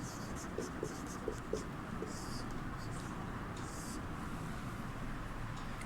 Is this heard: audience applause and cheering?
no